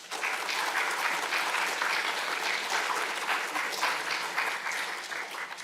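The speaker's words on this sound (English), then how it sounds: "Please give them both a big round of applause." A seminar audience applauds steadily for two award speakers, dense continuous clapping from a full room with no talk over it.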